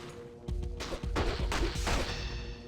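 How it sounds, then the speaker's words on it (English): In the video game Diablo II, a death explosion bursts out as a run of heavy blasts and crackling impacts that rise suddenly and stay loud, rumbling and smashing over a short stretch. "The death explosion got me."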